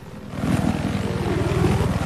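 A video game helicopter rotor thumps in fast, even pulses close by with a low droning engine underneath, steady and loud throughout the short burst.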